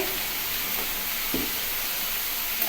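Food sautéing in a pan for a Bengali dish, with salt just added and stirred steadily: a continuous close sizzle and hiss with a brief louder burst partway through, no voices.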